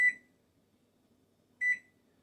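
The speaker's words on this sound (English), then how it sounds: "I'm going to do the microwave again for 30" A microwave oven heating chocolate for bark gives two short electronic beeps, one at the start and another about a second and a half later, clear against near silence.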